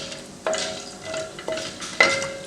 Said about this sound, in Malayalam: ഇതിട്ടിട്ടൊന്ന് നന്നായി നമുക്കൊന്ന് ഫ്രൈ ചെയ്തെടുക്കണം